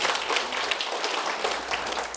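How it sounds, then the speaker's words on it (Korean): Church congregation clapping together in praise, a dense, lively patter of many hands at moderate loudness, continuous for the short stretch with no speech over it. "오늘도 찬양 가운데 함께 하시는 하나님께 영광의 박수를 올려드리도록 하겠습니다."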